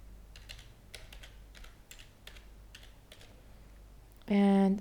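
A username being typed on a computer keyboard, a brisk run of light key clicks at an even pace, followed by a brief voice at the end.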